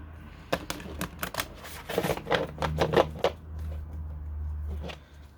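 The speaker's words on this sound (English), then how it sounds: "It's a really lazy way of shuffling." Large tarot cards being shuffled and tapped together in quick bursts of crisp clicks and riffles, close up, over a low steady hum, no talking.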